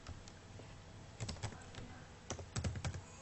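Keystrokes on a computer keyboard as data is typed into a new Excel spreadsheet: irregular clusters of quiet, close clicks with short pauses between bursts, and no voices.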